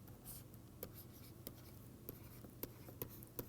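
Writing on a board during a mathematics lecture: faint, scattered taps and short strokes at an irregular pace over a soft room hum, with no talking.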